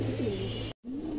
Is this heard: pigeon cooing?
yes